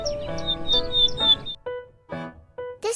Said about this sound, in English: This bird is known as toucans.